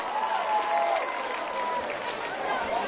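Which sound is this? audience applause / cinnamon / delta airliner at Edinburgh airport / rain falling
audience applause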